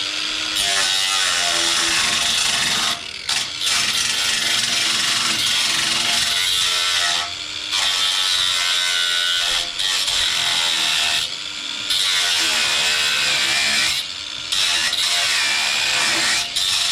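A die grinder blade cuts steel while fabricating a trailer to carry two side-by-sides, a loud continuous high-pitched grinding whine broken by brief pauses as the tool lifts off the metal.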